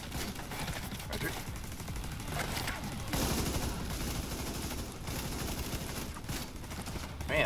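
G36 rifle fire in the shooter game The Division 2, a dense, continuous rattle of automatic shots and battle noise. It runs loud throughout with a heavier burst midway, while players talk over it.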